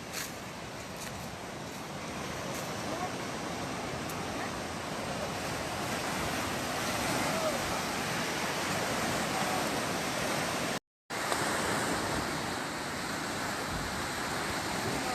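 Broad, continuous roar of ocean surf breaking on a beach at Pulau Dua in South Aceh, steady and fairly loud throughout with wind noise on the microphone and a brief dropout near the end.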